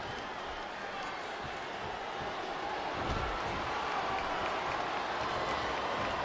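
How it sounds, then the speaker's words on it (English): Arena crowd in the wrestling video game Smackdown vs RAW 2008 cheering and applauding at a Bret Hart vs CM Punk submission match, a steady dense roar that swells slightly midway and holds loud throughout. "Now the fans start to cheer for him."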